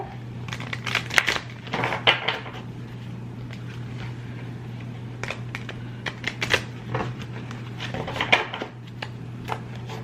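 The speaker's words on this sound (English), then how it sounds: "I'm going to do a quick shuffle." Tarot cards shuffled quickly by hand, a run of crisp, rapid clicking and riffling bursts over a steady low hum, close and fairly loud.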